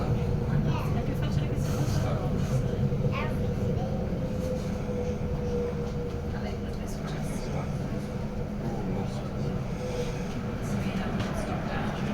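An Elizabeth line train, unit 387147, overtakes on the route toward Ealing Broadway, its steady rumble and hum filling the scene, moderately loud and continuous under a faint background voice.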